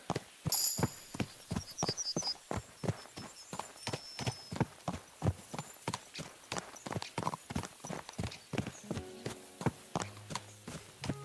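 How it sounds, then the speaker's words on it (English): Horse hooves clip-clop in a quick, steady rhythm in the Kingdom Come Deliverance 2 video game, close and crisp, with faint tonal game sounds toward the end. "Let's really spur these horses on, eh?"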